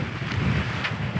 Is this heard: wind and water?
yes